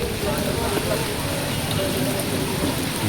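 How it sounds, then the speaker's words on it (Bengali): Heavy monsoon rain pours down steadily beside a fishing pond, a dense, unbroken hiss of drops striking water and surfaces close by that holds an even level throughout. "আবার মুষলধারায় বৃষ্টি আসছে"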